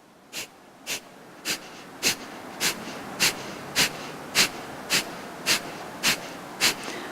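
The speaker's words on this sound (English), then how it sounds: "We're going to use a strong breath of fire." Breath of fire in a Kundalini yoga kriya: about a dozen sharp, forceful nasal exhales land in an even, steady rhythm, close and clear, with no talking.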